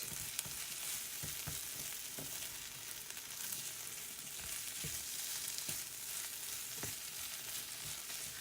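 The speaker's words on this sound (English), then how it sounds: "We're going to go ahead and stir it up a little so that all the egg gets nice and cooked." Egg and potato fry in a pan while being stirred, giving a steady close sizzle with occasional scraping knocks from the utensil, and no talking.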